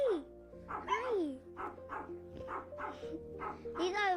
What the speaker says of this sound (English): These are some of the cute puppies they have.